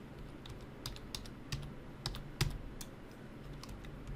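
A password typed on a computer keyboard during a Kali Linux install: a short run of close, crisp key clicks in an uneven rhythm, with no talking.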